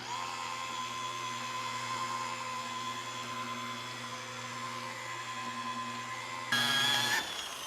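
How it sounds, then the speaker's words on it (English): Steady whine of a low-speed grinder fitted with a felt pad polishing glass in the GlassRenu system, a constant hum with tonal overtones that rises briefly in pitch and loudness near the end, with no talk. "Grinder speed back down to a 1. Put some more polish on,"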